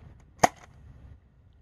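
A single sharp pop comes from a Nerf Rival Takedown blaster with a K26 spring mod firing one round. The crack is short and close, followed by a faint mechanical rattle and quiet outdoor background.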